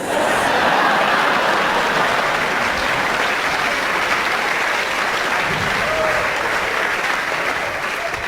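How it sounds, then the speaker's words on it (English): A stand-up comedy crowd bursts into loud, sustained applause. The dense, steady clapping fills the whole stretch without letting up. "I want you to think about why you're clapping."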